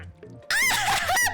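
A squeaky rubber-duck quack from Placid Plastic Duck Simulator sounds on a mouse click, a bright, close, wavering honk that cuts in over faint elevator-style music and repeats briefly.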